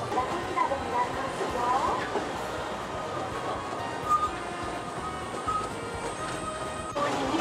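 A train on a Japanese mountain railway rumbles along steadily at about 25 km/h with rattling wheels and a broad mechanical roar, close and continuous, with a brief clank near the end.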